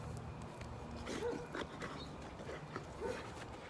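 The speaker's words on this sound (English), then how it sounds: "with a dog barking at us" A dog barks and whimpers faintly in the distance, a few scattered yips over a low background hum.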